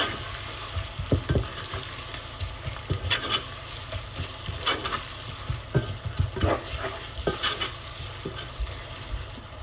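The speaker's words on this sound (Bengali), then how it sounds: "পেঁয়াজটা একটু ভাজা ভাজা হয়ে আসলে" A medium-size onion with garlic and salt fries in a pan, making a loud, continuous close sizzle broken by irregular scraping stir strokes, with no voices.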